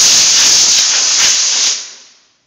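Compressed air blasts dust off lacquer sanded with 320-grit paper, a loud close steady hiss lasting nearly two seconds before it tapers off to silence.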